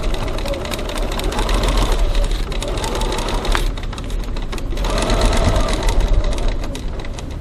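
A sewing machine runs steadily as it stitches a wallet panel seam, a continuous close mechanical whir with small pauses and speed changes, no voices.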